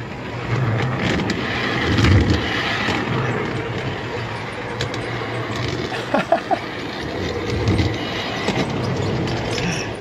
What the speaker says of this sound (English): Here comes the work train.